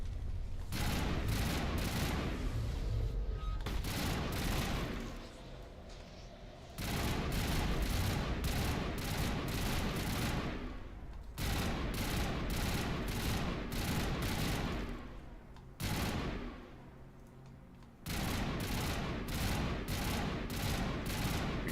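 Sustained bursts of automatic gunfire in Mass Effect: Legendary Edition, loud and dense, broken into several long volleys with short pauses between them.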